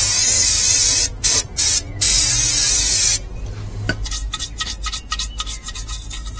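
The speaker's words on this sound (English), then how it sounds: "got some brake cleaner, let's get that done now" Brake cleaner hisses from an aerosol can onto motorcycle chain sprockets during a Lifan King chain and sprocket strip-down outdoors on a patio, with loud long bursts that stop and restart, then fainter rubbing and scraping.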